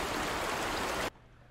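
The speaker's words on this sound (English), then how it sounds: "the water's making a sound and it's drowning out the other sounds" Steady broadband rush of flowing water, like a stream or small waterfall in a tense A Quiet Place film scene, loud and continuous for about a second before cutting off sharply to near silence.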